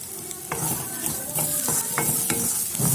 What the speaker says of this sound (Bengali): এখন যাতে পুরা না ধরে মশলা ওই জন্য অল্প একটু সময় নাড়ুমো।